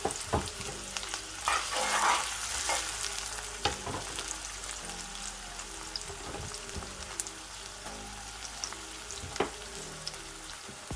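Pimento peppers fry in a pan while being stirred, a quiet sizzle broken by scattered scraping and clinking utensil strokes, with no one speaking.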